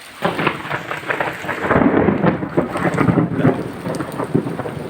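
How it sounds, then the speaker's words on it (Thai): Heavy rain from the first hard storm after Songkran pours steadily while deep thunder rumbles and rolls through the middle, loud and close, with no voices. "ยินเสียงฟ้าร้องชัดเจนมากเลย"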